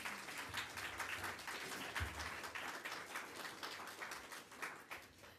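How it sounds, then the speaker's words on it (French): Quiet, fairly distant clapping from an audience at a Montreal university event, a light spattering of hands that stays steady and slowly thins out toward the end. "Je crois qu'on peut l'applaudir."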